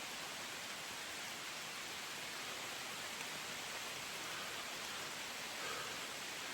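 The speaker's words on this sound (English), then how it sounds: "But it's raining pretty hard right now." Heavy rain pours steadily on a forest section of the Appalachian Trail in Vermont, a dense, even hiss that stays constant throughout with no talking.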